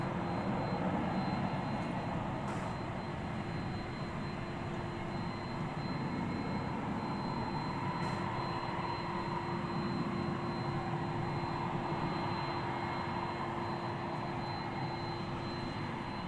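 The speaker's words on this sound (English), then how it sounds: "Scrambling to pick up this incoming flight from Los Angeles." A passenger jet inbound from Los Angeles to DFW Airport gives a steady, broad engine roar that holds at an even level throughout, with no talk over it.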